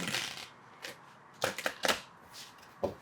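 Tarot cards are shuffled in a few quick, soft riffling bursts, close and quiet, separated by short pauses.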